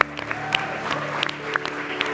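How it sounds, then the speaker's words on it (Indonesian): A studio audience applauds on an Indonesian television talk show, with steady, dense clapping throughout, close and fairly loud, and faint talk underneath. "Oke, kita berikan tepuk tangan dulu dong."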